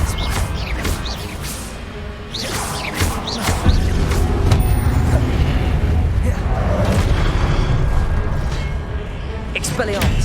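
Confringo fire spell blasts in the video game Hogwarts Legacy, a string of booming explosive bursts layered with crashing impacts over busy game noise, with a voice talking over parts of it.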